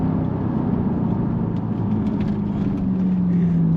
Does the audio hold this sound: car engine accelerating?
yes